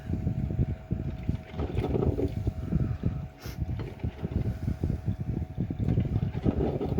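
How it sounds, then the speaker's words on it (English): A small tabletop fan runs in a hot kitchen, giving a constant breathy, gusting whoosh that stays fairly loud and close throughout, with no voices. "I also got a little tabletop fan going because it is hot in the kitchen."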